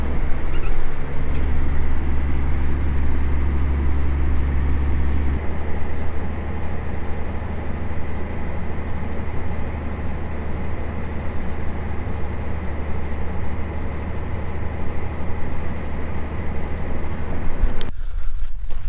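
A tractor steadily hauls a large implement bar around a farm yard, a continuous loud low engine drone with wind buffeting the microphone, running throughout before cutting off abruptly near the end.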